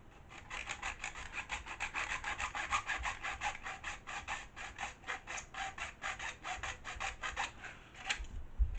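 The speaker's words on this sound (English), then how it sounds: "So I'm trying to bring the saw blade back up, because I just want to cut the top of it off." A hand saw cuts the top off a plastic RC car body in a quick, even rhythm of rasping back-and-forth strokes, several per second, close and continuous.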